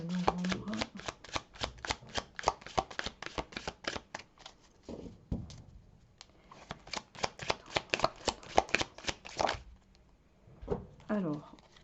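Tarot cards shuffled in a tarot reading: dense, rapid riffling flutters in long bursts with brief pauses, close and fairly loud, with a short spoken word at the end.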